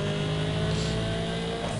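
An Audi racing in Need for Speed Underground 2 holds a loud, steady engine drone with tonal whine, as if cruising at speed, close and continuous with no talk.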